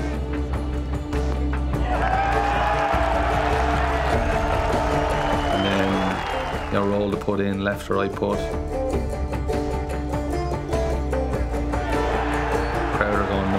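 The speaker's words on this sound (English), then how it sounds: "Crowd are going nuts." Golf gallery at the Open roars and cheers after a player holes a putt, a dense sustained crowd noise filling the whole stretch while someone talks over it.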